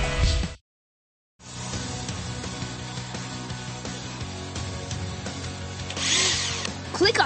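Cartoon power-tool effects from a Blaze and the Monster Machines game, where tools are used to reattach Swoops' rotor. A drill whirs and buzzes, cuts out briefly near the start, then grinds on steadily and swells louder toward the end.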